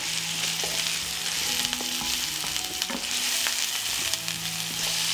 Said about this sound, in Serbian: Ulje se zagrejalo i dodajem luk, šargarepu i beli luk. I sve ćemo promešati i propržiti da omekša.